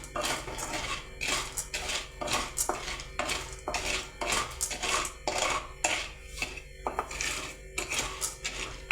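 Black chickpeas being dry-roasted in a kadhai without sand, rattling and scraping against the metal pan in quick, rhythmic bursts of close clatter as they are stirred, with no voices.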